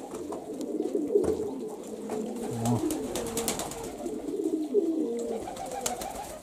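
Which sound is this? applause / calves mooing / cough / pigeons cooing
pigeons cooing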